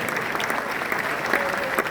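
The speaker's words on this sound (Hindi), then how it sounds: "मेरी टीम के लिए भी जोरदार तालियां, आप लोगों की भी जोरदार तालियां।" Audience applause at an event, a brief, steady burst of dense clapping close by, with no pauses.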